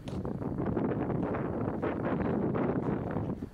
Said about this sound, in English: Even a slight breeze like today would be very windy.